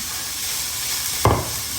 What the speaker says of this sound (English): I'm gonna mix it.